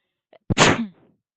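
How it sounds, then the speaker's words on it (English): A single sharp sneeze straight into a close microphone during a coding session, with a short breathy intake before it and a brief fading tail, otherwise quiet. "Did I just sneeze in the mic?"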